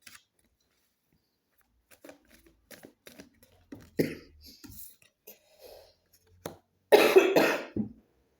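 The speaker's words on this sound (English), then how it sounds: "I still have a slight COVID cough." A woman with a lingering slight COVID cough lets out several short, dry coughs and throat-clearing sounds, sparse at first and then a louder burst near the end, close to the microphone in a quiet room.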